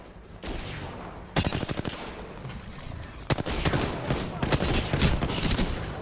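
Rapid bursts of video game gunfire, loud and close, with dense fusillades and shorter volleys repeating over several seconds, mixed with some background voices.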